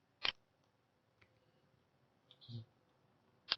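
Mouse clicks while working with the type tool in a design program on a computer: a few sharp, isolated clicks in a quiet room, the first loud, then fainter taps and a soft thud, with a final crisp click.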